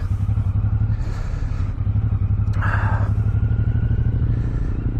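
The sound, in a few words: Boulevard motorcycle riding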